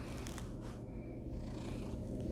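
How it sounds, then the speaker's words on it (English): A house cat purrs right up against a microphone, a soft, continuous, rumbling vibration heard close and alone. "She's like purring into my microphone."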